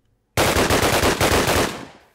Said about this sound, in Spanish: El MP44 de los alemanes.